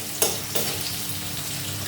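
Potatoes for a fish curry fry in a pan with a constant sizzle, broken by two brief stirring scrapes early on.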